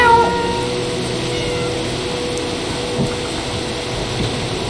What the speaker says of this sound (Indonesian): Meow lagi.